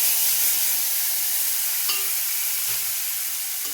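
Ground paste of pointed gourd seeds, green chilli, ginger and tomato sizzles steadily in a hot pan, a continuous close, fairly loud hiss with a couple of brief soft clatters, no talking.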